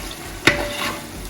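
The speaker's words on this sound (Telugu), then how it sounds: "దీన్ని బాగా ఇలా రోస్ట్ చేసుకోండి." Ground tomato masala roasts in oil in a pot for chicken biryani, giving a continuous close sizzle broken by one sharp scrape or knock from a stirring spoon.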